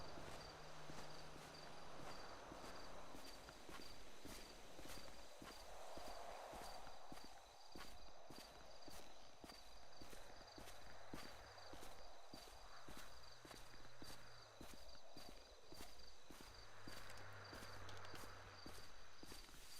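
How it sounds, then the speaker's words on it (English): Footsteps in the game GTA RP pace steadily through a constant ambient bed, a long run of soft even steps heard at a distance. "I can hear my footsteps, like, off in the distance."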